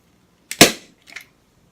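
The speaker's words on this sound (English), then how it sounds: "it's actually my husband's staple gun" A staple gun fires staples into fabric while a thrift store chair is reupholstered: one sharp, loud snap followed by a softer, shorter click about half a second later, with no talking.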